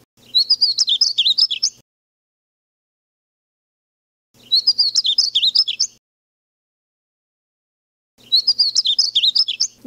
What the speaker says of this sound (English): male buntings will make this beautiful call